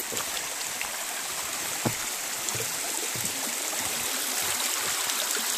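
Creek water flows steadily along a hiking trail at Kings Gap, a constant broadband rush with faint trickles and small splashes, close and unbroken, with no voices.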